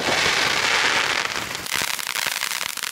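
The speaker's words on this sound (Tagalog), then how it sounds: "Eto nga pala yung fireworks namin" Backyard Fourth of July fireworks, a 30-shot cake, crackle and pop in a dense, continuous barrage of sharp bangs and sizzling crackles, loud and close, with no talking.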